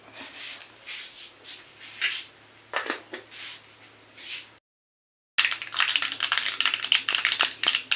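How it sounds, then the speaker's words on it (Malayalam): Mustard seeds crackle and pop in hot oil, a dense run of sharp little bursts that stops briefly before returning louder and busier, all up close with no talk. "കടുക് പൊട്ടി വരുന്നുണ്ട്"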